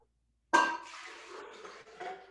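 Water for a macadamia nut drink gushes suddenly into a kitchen sink and runs on steadily and close. The pour breaks off briefly near the end and then resumes.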